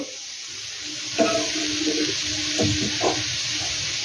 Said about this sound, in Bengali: জলটা আমার গরম হয়ে গেছে, এবার আমি জলটা দিয়ে দেব।